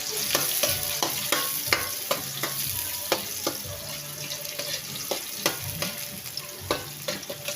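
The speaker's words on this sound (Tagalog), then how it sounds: "Haluin po natin silang dalawa for combination, bawang at sibuyas." Garlic and onion fry in a pan, with steady sizzling under repeated scraping and clicking strokes of a spoon stirring them at an even rhythm, close and continuous.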